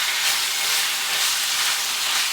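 Minced meat frying in about two tablespoons of extra virgin olive oil while being stirred and broken up, heard as a loud, continuous, dense sizzle that stays even throughout with no talking.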